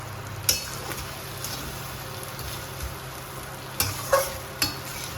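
Spices with a little cumin powder sizzle and fry in a pan while being stirred, a soft steady hiss broken by a few sharp scraping knocks of the spoon, close and fairly quiet, no talk.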